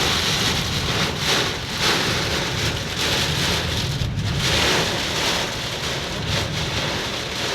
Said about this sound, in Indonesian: Untuk hujan lumayan cukup ekstrim.